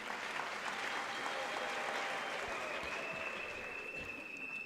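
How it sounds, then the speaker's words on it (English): Steady, dense applause from a large audience fills an indoor University of Limpopo autumn graduation ceremony, continuous and even without voices standing out. "Can't we give the university a big round of applause for that?"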